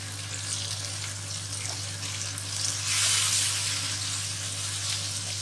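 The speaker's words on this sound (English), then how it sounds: "the turmeric, the coriander powder and chilli powder, and just give that a stir" Ground turmeric, coriander and chilli powder sizzle in hot oil in a frying pan while being stirred, giving a steady close crackle and hiss with a brief swell of frying noise partway through.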